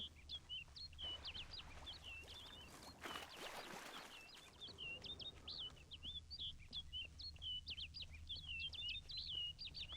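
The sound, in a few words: bird calls in Witcher 3: Wild Hunt video game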